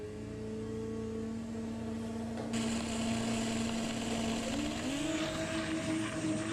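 A VW drag race run at Santa Pod pits a dragster against an Audi TT, with a steady engine drone heard from a distance that climbs in pitch as the cars accelerate down the strip.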